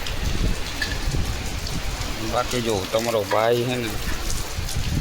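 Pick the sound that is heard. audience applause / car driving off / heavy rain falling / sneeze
heavy rain falling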